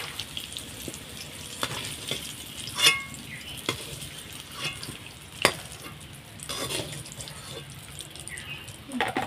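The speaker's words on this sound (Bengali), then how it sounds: "এই তেলের মধ্যে আগে কুমড়োগুলো ভেজে নেব।" Pumpkin pieces frying in hot oil for khichuri, a steady low sizzle with occasional clinks and scrapes of a spatula stirring the pan.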